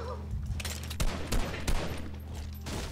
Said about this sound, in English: Who's shooting? I was shooting them.